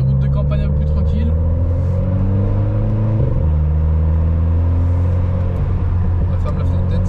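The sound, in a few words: car engine revving through GT Perf exhaust silencer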